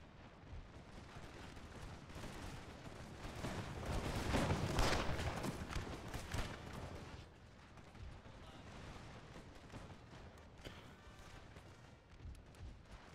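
Musket volleys crackle in Napoleon: Total War, a dense, rolling roar of massed gunfire that swells to a peak midway, then eases into scattered shots, with battlefield ambience throughout.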